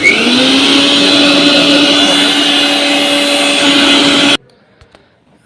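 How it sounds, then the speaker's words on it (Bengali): An electric blender, just repaired after its cable was fixed, runs at a steady high whine for about four seconds close up, then cuts off abruptly into near silence with a couple of small clicks. "এখন আশা করি আমি ব্লেন্ডারটা এখন চালু করব"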